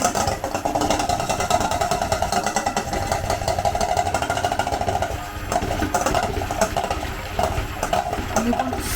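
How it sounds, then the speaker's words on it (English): Double cream with a drop of vanilla is whisked in a bowl, giving a continuous close mechanical whirring buzz that holds steady throughout with only a brief dip, and no speech. "in this bowl I've got just about 100 ml of the double cream, and I need to start to whisk it"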